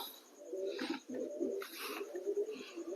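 Fantail pigeons, including a black American fantail, cooing in repeated low rolling phrases close by, with faint higher chirps mixed in.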